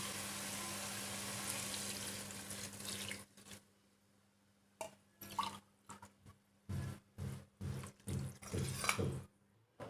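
Water poured into a pressure cooker of mutton for Salem-style military hotel biryani. A sizzling hiss at first, then a run of short, close splashing bursts, with no talk.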